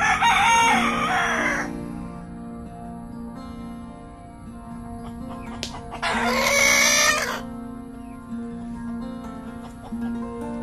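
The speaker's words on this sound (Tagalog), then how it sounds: "Ang daming alaga nila mga manok oh." Chickens and roosters kept at a hillside house beside a steep ravine, with one rooster crowing loudly at the start and another long crow mid-clip, over a steady background hum and faint clucking.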